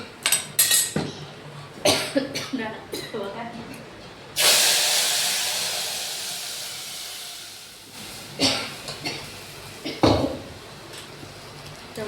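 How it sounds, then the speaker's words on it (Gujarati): A sudden loud hiss as mustard seeds and chilies hit hot oil, a tempering for dal, fading slowly over several seconds amid clattering and a voice talking nearby. "આપણે દાળનો વઘાર થઈ ગયો છે"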